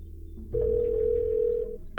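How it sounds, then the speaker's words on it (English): A telephone tone in the Parasite Eve 2 video game, one steady electronic ring held for about a second over quiet game background. "Wait, why are you on the phone?"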